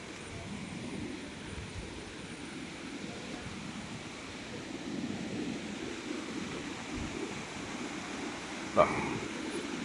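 Kattikayam waterfall rushing as a steady, broad roar heard from nearby, with a voice talking and one brief knock near the end.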